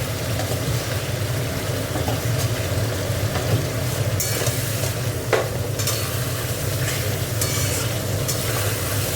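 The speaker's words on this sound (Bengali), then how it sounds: "দেখো আলুগুলো দিয়ে দিচ্ছি ঝোলে" Potatoes dropped into a simmering fish curry with papaya, a continuous bubbling sizzle in the pot with scattered clinks and scraping stirs, no voices.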